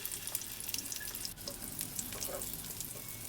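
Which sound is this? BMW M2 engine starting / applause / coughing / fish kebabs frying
fish kebabs frying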